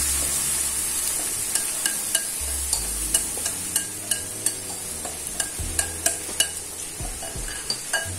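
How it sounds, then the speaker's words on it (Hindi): Tomato batter sizzles on a hot smoking tava, a steady frying hiss with regular light taps and scrapes of a utensil, close and continuous, no talking. "अब हमें इस मिश्रण को पूरा का पूरा इसमें डालना है।"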